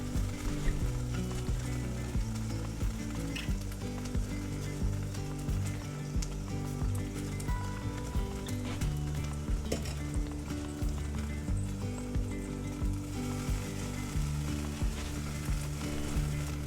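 Birria meat sizzling on a tortilla topped with cheese in a pan, a steady close crackle running throughout with faint light clinks, no talking.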